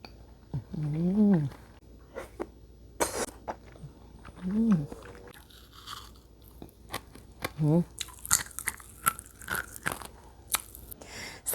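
Kyoho grape jelly is eaten up close, with wet squelches, bites and chewing clicks that come in bursts, loudest toward the end, and someone talking in between.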